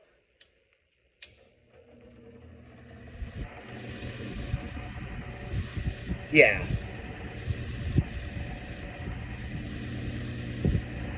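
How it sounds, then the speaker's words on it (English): A 1960s-70s Superior Electric 10-inch electric fan switches on and runs, a click followed by a rising steady whir with faint ticking, quiet and close, with a person briefly speaking. "Let's go plug this up and get your earplugs ready because this fan is about to start up"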